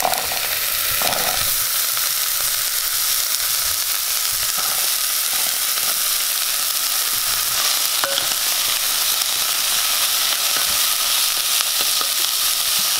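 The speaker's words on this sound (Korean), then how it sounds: "당근을 밑에다 두고 먼저 볶았던 양파를 위에 덮습니다." Onions and carrots stir-fry in oil in a pan, a continuous close sizzle and crackle broken by occasional clatters of stirring, with no talking.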